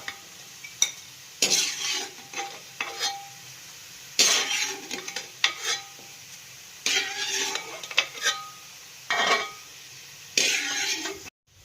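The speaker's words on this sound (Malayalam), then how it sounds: "ഈ ഒരു മൂപ്പിന് നമുക്ക് ഈ തേങ്ങ ഇനി കോരിയെടുക്കാം" Roasted grated coconut being scooped from a pan of hot oil for Kerala kadala curry, heard as a run of scraping, stirring clatters in bursts with gaps, over a faint oil sizzle.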